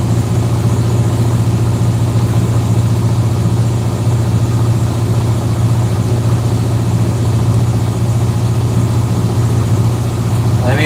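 A boat engine runs with its revs raised while motoring toward Lombok, Indonesia, giving a loud, steady low drone that holds without a break from start to finish.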